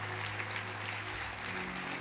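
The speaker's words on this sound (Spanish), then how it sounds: "Apláudele fuerte, fuerte, fuerte a Jesús" A church congregation applauds steadily, a dense and even wash of many hands clapping at a moderate distance with no pauses.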